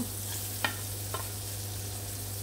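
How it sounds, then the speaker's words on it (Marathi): Garlic frying in butter in a kadai for pasta, a soft steady sizzle close by with two quick stirring scrapes, no talk. "बटर घालून हेचें आतां गार्लीक घाता"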